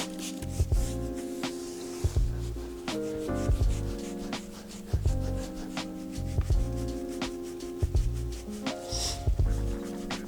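Detailing product is rubbed by hand onto the paint of an asphalt-covered work truck, giving close, continuous scrubbing strokes with irregular squeaky pulses, with no talk.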